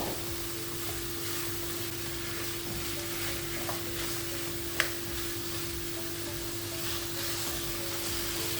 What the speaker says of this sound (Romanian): Peste legumele călite adăugăm și pieptul de pui.